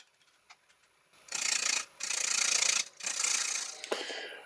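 A carbide tool cuts the side of a yew bowl on a wood lathe, giving three loud, rasping scraping passes of about a second each, separated by short pauses, close by.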